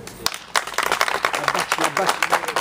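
Audience applause at a peace association gathering, sharp individual claps building into a lively burst, with someone speaking over it.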